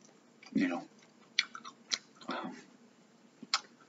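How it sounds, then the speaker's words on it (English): Bubble gum is chewed with heavy, wet smacking close to the ear, several distinct smacks and clicks at an irregular pace. "I hope I don't bother you with my gum chewing"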